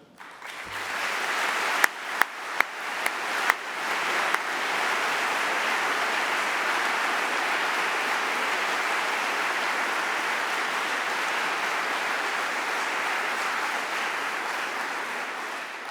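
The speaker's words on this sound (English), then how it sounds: "please join me in one final round of applause to all the award winners tonight" A large audience applauds award winners at the close of a 2014 preservation awards ceremony in Boston, with steady, dense clapping that swells after a few sharp opening claps and holds for the rest of the clip.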